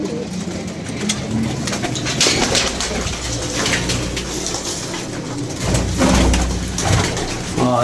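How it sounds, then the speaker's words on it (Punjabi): Domestic pigeons kept for pigeon flying coo repeatedly in a loft, several birds close by with overlapping throaty calls and occasional rustling over a steady background. "ਕੱਢਨੇ ਆ ਕਬੂਤਰ ਹੋਰ ਬਾਹਰ"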